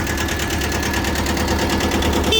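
Kubota B6000 mini tractor engine running steadily and smoothly, a continuous close mechanical drone with a fine rapid pulsing throughout and no pauses.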